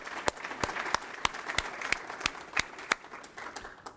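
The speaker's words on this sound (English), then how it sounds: "We'll give Laura a round of applause" Audience applause for an award winner at a university faculty awards ceremony, a modest crowd clapping with distinct individual claps standing out in an irregular rhythm, fairly soft and alone.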